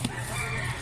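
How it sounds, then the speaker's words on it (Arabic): A rooster crows at a bird market, a drawn-out call heard close and clearly over a faint background of market ambience, with no talk during it. "هذا كله ديك."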